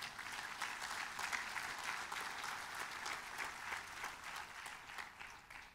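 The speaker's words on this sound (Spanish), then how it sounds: "Dale un aplauso a Jesús." A church congregation claps steadily throughout, dense sustained applause at moderate distance with no voices rising above it.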